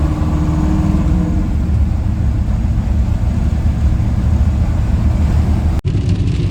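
A Small Block Chevy car with a 700R4 transmission pulls along under its own power on a test drive, its engine giving a loud, steady rumbling drone with road noise and a brief cut near the end, no talking.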